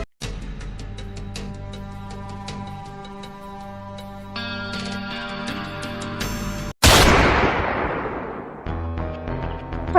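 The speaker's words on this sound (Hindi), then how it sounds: "लगता है किसी ने गोली चलाई है" Loud sudden bang at about 6.8 seconds, a single sharp broadband blast that decays over a couple of seconds, cutting through a steady dramatic music bed in a Hindi crime drama scene.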